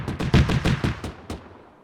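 Gunfire in the military shooter Task Force Athena, about eight sharp shots in a quick, slightly uneven rhythm, loud and close, the last one standing apart before the sound fades out.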